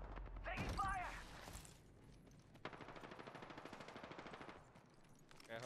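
Rapid automatic gunfire in the shooter game Apex Legends rattles in a fast, even burst for a few seconds, fairly faint, after a short spoken phrase at the start.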